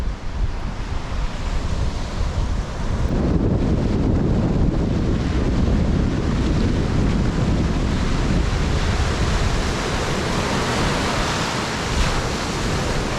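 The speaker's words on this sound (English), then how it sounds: "The wind's picked up big time down there." Strong wind sweeps across a beach at Broke Inlet, roaring and buffeting the microphone loudly and continuously, blended with the broad wash of surf; no voices.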